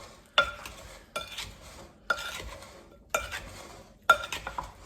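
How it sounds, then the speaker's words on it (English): Strawberries being gently stirred into rhubarb pie filling in a bowl, a spoon scraping and clinking in four or five distinct strokes with short pauses between, close and moderately loud, no talking. "Give that a gentle stir here. Get those strawberries incorporated in there."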